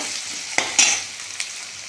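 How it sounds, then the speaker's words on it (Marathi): Ginger-garlic paste fries in a pan with onion and tomato, making a close, steady sizzle broken by a few sharp stirring scrapes and clinks. "आलं आणि लसूण याची पेस्ट घातलेली आहे बघा एक चमचा आणि ती पण चांगला आपण परतून घ्यायची"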